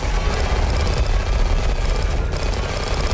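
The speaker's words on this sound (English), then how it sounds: "I got the auto cannon." An upgraded auto cannon turret firing in a Roblox game: a loud, continuous barrage of rapid booming shots blending into a dense roar for several seconds, with no talk.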